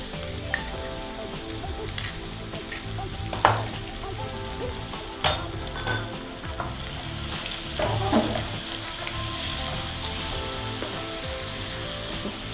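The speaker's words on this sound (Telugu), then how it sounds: "ఈ పేస్ట్ అంతా కొంచెం పచ్చివాసన పోయే వరకు ఫ్రై చేయాలా?" Onion, green chili and garlic paste frying in a pan, with a steady sizzle and several sharp clinks and scrapes of a spatula stirring the paste, close and alone.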